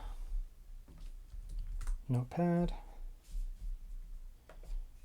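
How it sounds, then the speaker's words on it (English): Typing in Notepad on the keyboard of a 14-inch 2025 gaming laptop, an ASUS Zephyrus G14 or HP Omen Transcend, with quick soft key clicks under someone speaking and a brief vocal sound midway. "we'll do a quick typing test though. So we'll go into Notepad."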